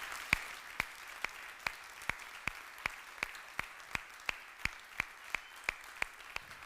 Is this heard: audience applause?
yes